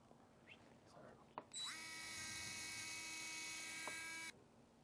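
A high-pitched electric surgical drill whines steadily for about three seconds, starting abruptly after a few faint clicks and cutting off sharply, during placement of a Lapidus plate.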